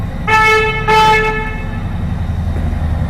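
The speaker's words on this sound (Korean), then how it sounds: "크락션" Two short honks of a Harley-Davidson Road Glide Special 114 motorcycle horn, a steady tone each lasting about half a second, close by over a low idling engine rumble.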